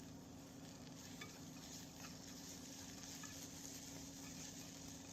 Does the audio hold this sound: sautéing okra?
yes